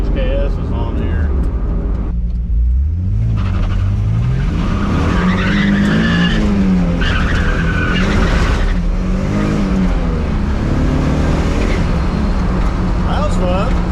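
A turbocharged Nissan 300ZX accelerating hard with its tires skidding on a dusty surface, a loud sustained engine roar with rising and falling revs as the tires squeal, while someone talks over it.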